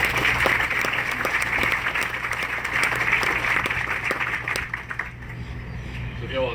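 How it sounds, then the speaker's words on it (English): A crowd applauds steadily at a clinic groundbreaking ceremony, with dense, sustained clapping that tapers off near the end, with a voice briefly heard over it. "give Mr. Battle one more applause"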